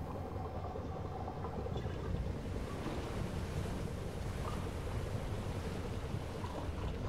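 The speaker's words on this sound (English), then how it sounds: "the boat is struggling with the terrible waves" Heavy ocean waves and wind pound a U-boat in Silent Hunter 3, a continuous rushing roar of surf and gusts that stays loud and steady, with no voices over it.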